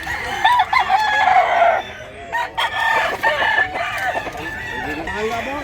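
A rooster crows repeatedly, close and loud, among other clucking fowl at a busy chicken market in Mantalungon, Barili, Cebu, with a voice talking intermittently over the birds.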